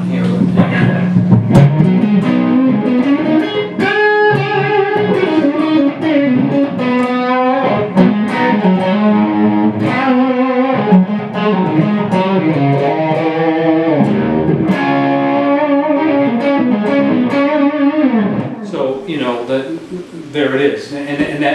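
An electric guitar with a single coil pickup plays through an amp with an overdrive pedal engaged, giving crunchy distorted chords and melodic runs that ring out continuously and loud and close throughout.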